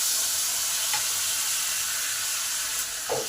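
Chopped tomatoes dropped into hot spiced oil for a chana dal with papaya, giving a steady, loud, close hissing sizzle throughout, with a faint clink of a utensil near the end.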